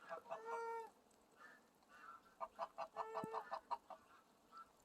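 Pomeranian geese on a farm honking, with a few loud calls, a pause, then a rapid run of repeated honks, moderately distant outdoors.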